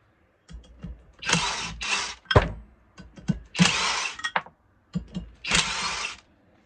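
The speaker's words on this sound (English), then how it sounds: "So we're going to pop these 4 bolts out." Four bolts come out of a 7.3 turbo on a kitchen counter, heard as bursts of a power tool whirring in short spurts, separated by sharp metallic clicks and clanks, close and moderately loud, with no talking.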